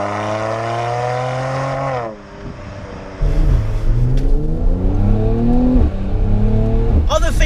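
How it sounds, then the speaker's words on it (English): A twin-turbo V6 in a Mercedes-AMG C43 estate revs hard and close, pitch climbing steadily, dropping off briefly, then climbing loudly again through the gears with a toneful, growling note. "V6 engine up front does make a good bit of noise, considering it is a V6."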